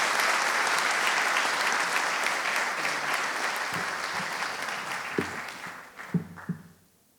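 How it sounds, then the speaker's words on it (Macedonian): An audience at a municipal award ceremony for Liberation Day in Bitola applauds steadily, the clapping fading out with a few last isolated claps at the end. "Уште еден аплауз ќе ве замолам."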